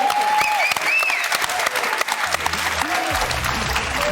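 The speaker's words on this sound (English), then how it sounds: "Round of applause, ladies and gentlemen" Studio audience applauding on a morning television news show, loud dense clapping with voices and cheers mixed in, and people talking over it toward the end.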